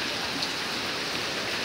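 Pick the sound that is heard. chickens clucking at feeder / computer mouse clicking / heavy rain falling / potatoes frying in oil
heavy rain falling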